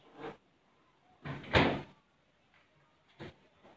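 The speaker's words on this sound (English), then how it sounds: "So let me shut the doors to the fridge." Refrigerator doors shutting in a home kitchen: a few soft, muffled thumps, with the loudest in the middle and a lighter knock near the end, separated by quiet pauses.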